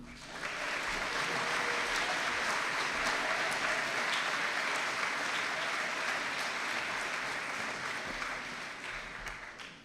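A crowd at a high school senior recognition night breaks into sustained applause for academic award winners that swells quickly and holds steady, easing off slightly toward the end.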